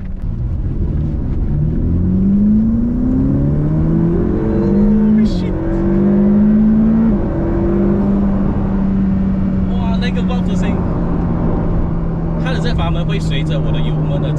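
A Ferrari F8 Spider's V8 engine pulls hard on a mountain road, its loud, close roar climbing steadily in pitch through the gears, with brief sharper bursts near the end.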